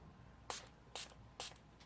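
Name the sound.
makeup setting spray being misted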